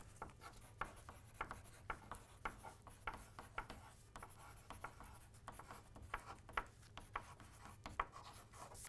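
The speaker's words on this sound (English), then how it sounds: "You got your pencil here. I got my pencil here. We're gonna write down our feelings." A pencil scratches across paper in quick, close strokes, soft scratchy bursts repeating irregularly over a low steady hum, with no talking.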